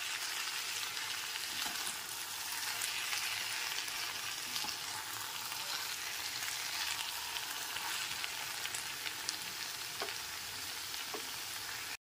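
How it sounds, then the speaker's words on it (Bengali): Bengali mixed vegetable labra is stirred with a spoonful of ghee in a hot pan, producing a continuous soft sizzle with occasional scraping clicks from the spoon, close and without talk. "ঘিটা দিয়েও খুব ভালো মতো একবার মিশিয়ে নিতে হবে।"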